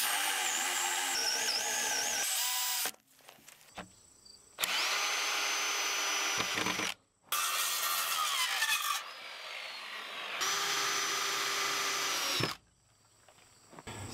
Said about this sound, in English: So I got my holes drilled all around in the front and the back